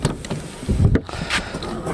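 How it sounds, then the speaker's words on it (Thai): A single dull thump as the tailgate of a Daihatsu Mira L80 turbo is opened nearby, with low background rumble before and after. "นี่เปิดฝาท้ายได้ ปึ้ง"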